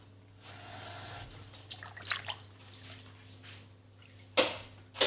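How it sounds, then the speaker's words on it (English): Water splashing as a container is rinsed in a home kitchen while a chicken and vegetable bake is prepared, faint and intermittent with a few sharper splashes near the end. "Don't waste this. Rinse it, bit of water, put it in."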